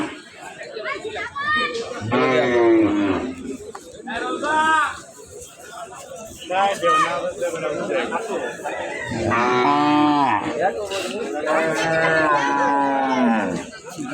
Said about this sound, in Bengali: এই যে দেখেন আর কালা গরু, পুরা কালা একটা গরু